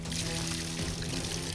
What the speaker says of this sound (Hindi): अरे अरे उधर पानी छोड़ो ना